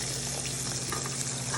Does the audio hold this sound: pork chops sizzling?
yes